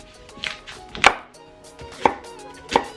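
A knife chops through a halved onion on a cutting board, dicing it for Japanese natto pasta; four sharp, close chopping strikes land at irregular intervals over quiet room tone.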